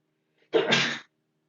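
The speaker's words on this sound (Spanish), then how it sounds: "me va a quedar el estornudo en la grabación" A single close, sudden sneeze from a teacher during a recorded online English lesson, short and forceful against an otherwise silent background.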